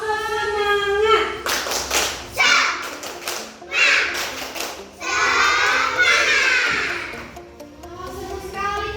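Elementary schoolchildren clap their hands together in rhythmic bursts, close and lively, alternating with children's chanting voices between the rounds of applause.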